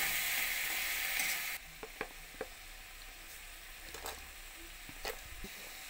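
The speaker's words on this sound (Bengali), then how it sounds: "মশলাটা ভালো করে ভেজে নেব।" Egg tarka masala frying with a little water, a loud hiss that drops suddenly to a softer sizzle, followed by occasional light spoon taps and scrapes.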